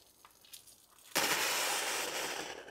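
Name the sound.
air and water sputtering from a pipe while purging circuit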